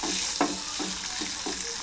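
Eggs sautéing in a hot pan for egg biryani, a constant bright sizzle of frying broken by several rhythmic scraping stirs of the spoon, close and loud with no talking.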